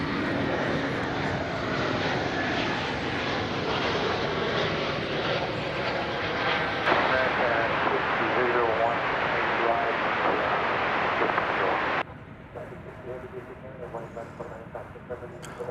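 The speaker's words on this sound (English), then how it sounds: "it's time for American Flight 2720 from Tucson, Arizona, in Airbus A321neo" An American Airlines Airbus A321neo arriving at DFW from Tucson gives a sustained jet roar that swells slightly, then drops off abruptly near the end, leaving a quieter background with talk over it.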